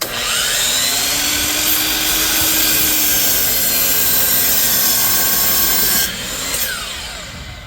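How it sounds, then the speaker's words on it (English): A DeWalt compound saw cuts Trex composite decking in a loud, continuous high whine lasting about six seconds, then winding down into a lower spin. "This is my first attempt trying to cut Trex decking, so let's see how this goes."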